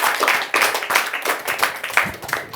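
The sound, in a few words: audience applause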